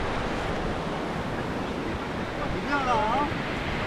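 Sea waves washing onto the beach at Biarritz, a continuous close surf rush with wind on the microphone and a brief voice mid-clip.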